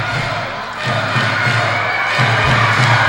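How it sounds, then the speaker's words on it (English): Basketball fans cheer during an ACAC championship game in a gym, a loud sustained crowd roar with shouts rising and swelling, punctuated by dull thumps from the court. "the Nate players next to us over here cheering for Olds College"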